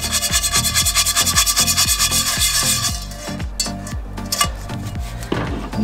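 Rusty cast iron cookware being scrubbed hard, a steady rhythmic back-and-forth rasp of about a dozen strokes, loud and close, then slower, scattered scraping toward the end.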